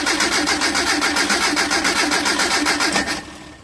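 The carbureted engine of a Mitsubishi L300 cranks loudly in a fast, even rhythm of starter pulses for about three seconds, then stops without firing.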